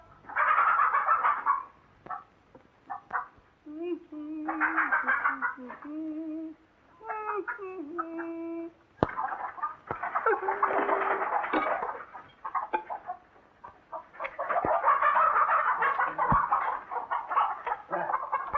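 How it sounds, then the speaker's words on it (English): Chickens clucking on a small farm in a 1952 comedy film, with bursts of clucking and squawking mixed with farmyard bird calls, fairly loud and close, sometimes alternating with other bird sounds and brief noises. "Well, feed the chicken."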